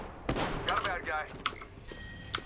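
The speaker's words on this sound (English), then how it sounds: "Shots fired at me." Gunfire in a video game, several sharp shots and bursts firing at close range within a tense exchange, with a player talking over much of the action.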